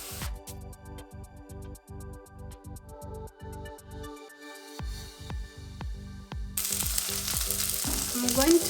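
Green pepper frying in a pan with potatoes, a steady sizzle that swells louder toward the end, heard close over rhythmic background music, with no talking.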